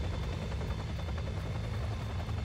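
Helicopter in the video game Watch Dogs, a steady, loud rotor drone with low thumping that holds constant for the whole stretch, no voices.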